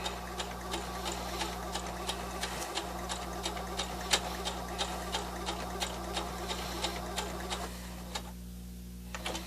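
A sewing machine stitches over cording for a turkey pin cushion, a quiet, even run of rapid ticking stitches under a low motor hum, close up and alone.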